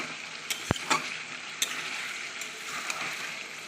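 Green chicken cooking in a wok, with soft sizzling under a few sharp clinks and scrapes from stirring.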